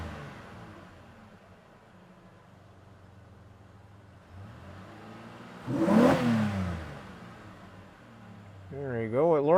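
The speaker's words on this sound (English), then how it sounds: "I'm going to go ahead and hit the wide open throttle and watch the check engine light." A car engine idles in park, then is pushed to wide open throttle: a sharp, loud rev surges and falls back, with another rising rev starting right at the end.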